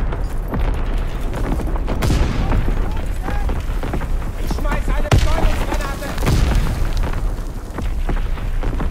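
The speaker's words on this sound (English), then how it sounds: "Fritz X bomb mission underway" Fritz X bombs exploding in Call of Duty WW2 during a World War II battle, a dense loud wash of booms and gunfire with heavy blasts standing out, mixed under shouted in-game voices.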